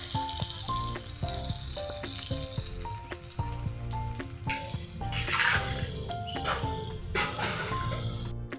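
Potatoes going one by one into fried spice paste in a kadai for aloo dum, a steady close sizzle and frying crackle with light stirring, under faint background music.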